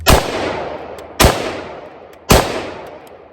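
Three loud, close rifle shots ring out at a steady interval of about a second, each a sharp crack with a decaying tail, from a dirty, mud-covered rifle fitted with a Cyelee T10 red dot sight during a torture test.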